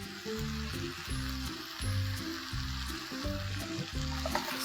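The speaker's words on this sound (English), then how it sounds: "Now that everything is sizzling away and the capsicum has also cooked" Capsicum and other vegetables sizzle steadily in a hot pan, a continuous crackling hiss with rhythmic scraping or stirring thumps underneath.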